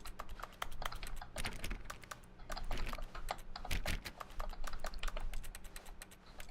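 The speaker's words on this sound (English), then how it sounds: "When you press the use key, you make typing sounds." Rapid keyboard typing clicks from The Stanley Parable video game, a dense and steady clatter of keystrokes heard close up with no talking.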